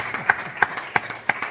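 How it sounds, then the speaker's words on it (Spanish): A church congregation claps together in a brief rhythmic beat, sharp evenly spaced claps about three per second over a soft background. "Da un aplauso al Señor."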